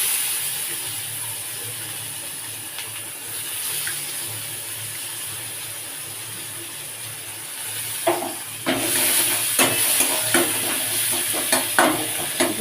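Chopped onion frying in hot oil in a pan for a pomfret fish dish, a steady sizzling hiss with stirring scrapes and louder crackles toward the end, close and without talking.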